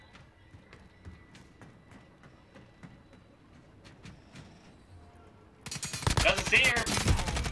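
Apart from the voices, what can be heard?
gunshots in a competitive shooter video game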